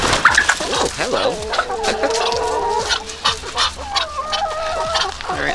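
Chickens let out of the coop on a homestead cluck and squawk loudly and close by, with honking calls mixed into the busy, continuous flock noise.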